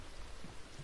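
Rain falls in a horror video game as a faint, steady hiss with a soft low rumble, continuous and uninterrupted.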